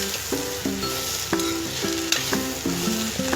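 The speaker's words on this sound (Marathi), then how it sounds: "अर्धा चमचा एवढी हळद टाकली आणि पुन्हा आपण परतून घेऊया भेंडी" Okra sautéing with turmeric in a pan gives a constant close sizzle, with spatula scrapes and taps landing at a fairly regular pace.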